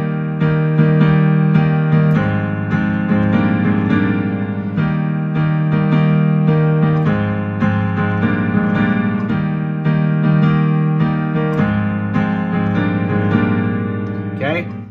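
Solo piano plays the vocals-only section of a song, slightly slowed, with sustained chords and moving inner notes, loud and close with no talking.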